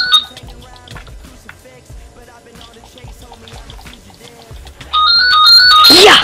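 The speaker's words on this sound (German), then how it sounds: "Oh, es klingt das Telefon." A telephone rings in a German-speaking indoor setting, its electronic ringtone cutting in loudly and sustained near the end after a stretch of quiet clatter and background noise.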